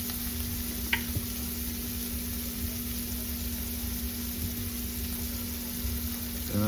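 Sausage grease sizzles steadily in a cast iron skillet, a constant close frying hiss with a few faint clinks, no talking.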